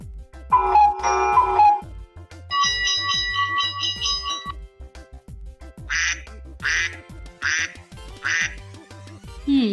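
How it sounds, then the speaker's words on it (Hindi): After a few bright chiming tones, a duck quacks about five times in a steady series, loud and close. "ये तो बतख की आवाज है।"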